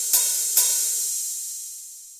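A drum and bass hi-hat stacked with an 808 hi-hat on an electronic drum kit strikes twice in quick succession, bright and hissy, then rings out in a long, slowly fading wash, with no talking.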